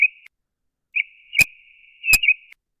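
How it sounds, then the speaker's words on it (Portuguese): Filtered recording of bird song: thin, whistle-like high tones in separate short phrases against silence, broken by two sharp clicks, with no background noise. "E aqui é o pássaro filtrado."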